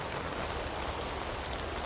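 Heavy rain falls steadily, a dense continuous hiss and patter drumming on surfaces with no pauses, close and fairly loud, with no voices.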